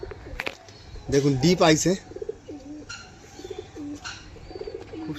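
Nearby white pigeons coo in soft, repeated throaty rolls, one louder bout standing out, while someone speaks over them.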